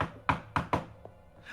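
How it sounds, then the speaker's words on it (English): A secret knock on a wooden door: three sharp knocks, the first set apart and the last two close together, then a faint fourth tap after a brief gap, with no voices. "The secret knock."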